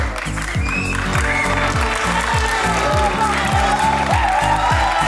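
An audience at a Rwandan film awards ceremony applauds steadily after the best international documentary award is announced. The clapping runs throughout, mixed with loud rhythmic music that has a heavy pulsing bass.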